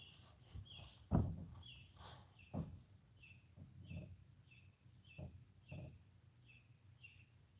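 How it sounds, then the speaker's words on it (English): Small birds chirp in short repeated high calls through an open skylight, fairly faint and spaced about half a second apart, with a few louder knocks and low room noise underneath. "I opened the skylight so you guys can hear the birds."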